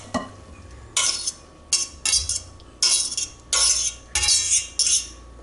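Strained linguini and zucchini tipped from a strainer into a bowl in a home kitchen, heard as a series of close, bright scraping and clattering bursts of utensil and dish contact, about six short rustling pulses with brief pauses between.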